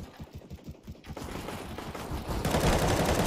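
Rapid bursts of submachine gun fire in a first-person shooter video game, a dense crackling volley building in loudness toward the end, with no talking over it.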